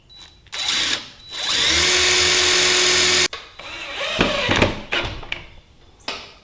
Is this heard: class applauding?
no